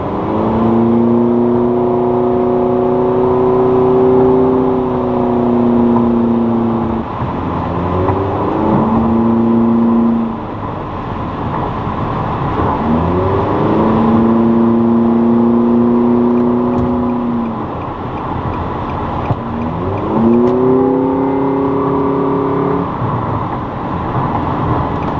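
A car fitted with a Top Speed Pro 1 exhaust, running intake only, accelerates hard several times, the engine note rising and falling in repeated loud, close pulls with brief lifts between them.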